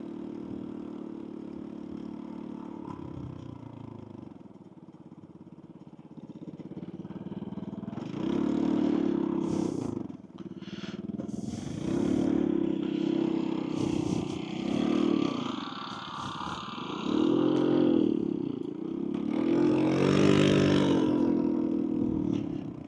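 A scooter pulling a trailer off-road on the Scooter Cannonball ride growls and revs through uneven ground, its small engine rising and falling in repeated surges with some clattering, heard up close without speech.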